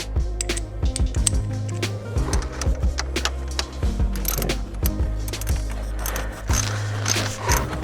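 A 5mm tool tightens a bolt on a TurboXS blow off valve fitted to a 2019 Hyundai Veloster N, making rapid mechanical clicking and ratcheting sounds up close in uneven bursts.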